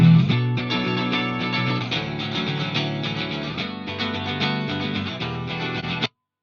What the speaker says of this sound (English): There's a cut at 200 hertz too, that sounds like this.